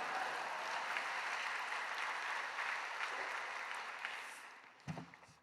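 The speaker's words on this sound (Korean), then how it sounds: "나오실 때 할렐루야 우리 영광 돌리며 큰 박수로 맞이하시기 바랍니다" A church congregation at Yoido Full Gospel Church claps warmly to welcome a missionary to the pulpit, a steady, moderately distant applause that tapers off before a brief bump and thud at the end.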